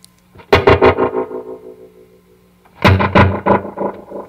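An ADINEKO tape-style delay pedal blends its short and long playback heads, giving two loud, gritty, distorted phrases that each smear into quick rhythmic repeats, separated by a quieter decaying tail.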